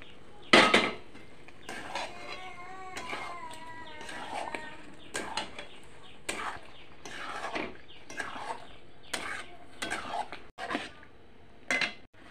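Metal utensils clank and scrape against a pan in a series of sharp, irregular knocks as paneer cubes are added and stirred, close by, with faint voices in the background.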